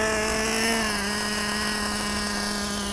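A Traxxas Revo 3.3 nitro RC monster truck engine idles with a steady high-pitched buzzing drone, close and loud, holding an even pitch that sags slightly throughout, with no talking.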